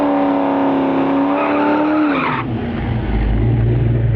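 A Ford Mustang drag car roars down the strip at Interlake Dragway, a loud, close engine whose pitch climbs as it revs, then cuts to a lower, rougher rumble with a screech of tires.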